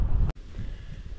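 Low, rumbling wind buffets the microphone while cycling uphill into a headwind near Lubliniec, Poland, with a brief dropout partway through before the blustery roar continues.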